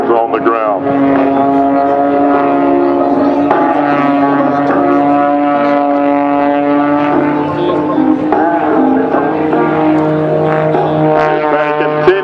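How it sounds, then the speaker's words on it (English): An aerobatic propeller airplane performing at an air show at Robins Air Force Base in 2012, heard as a loud, sustained engine drone with shifting tonal pitch throughout. "Patty continues to take that airplane through its paces here at Robbins Air Force Base."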